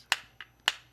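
Three sharp wooden clicks from cane castanets, two loud and one softer between them, close and alone.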